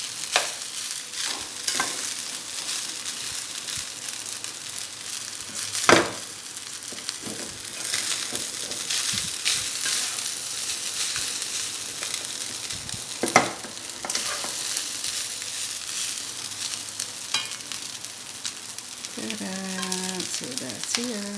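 Tomyam fried rice stirred and fried in a pan, with steady sizzling under repeated scraping and clattering strokes of a utensil, close and continuous for the whole stretch.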